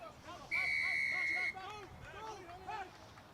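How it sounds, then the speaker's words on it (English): A referee blows one loud, sharp whistle blast lasting about a second during a men's all-stars rugby match, over a crowd murmur and a commentator's voice. "Foundry with a whistle going their way."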